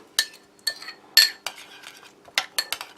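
A spoon stirs flour porridge mix from a French army emergency ration in a container, giving a few sharp metallic clinks and scrapes in an irregular rhythm, close and clear, with no voice.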